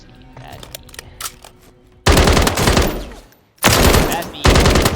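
The BAS-B assault rifle fired on the firing range in Warzone, loud close bursts of rapid automatic fire separated by a short pause, with softer clicks and handling sounds beforehand.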